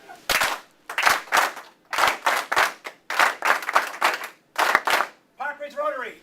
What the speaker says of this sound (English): Okay, happy clap.